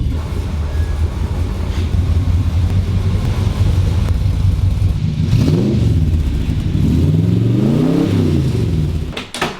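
A classic Corvette Stingray's engine revs in loud, rising and falling surges over a constant deep rumble, with two clear blips near the end before it cuts off.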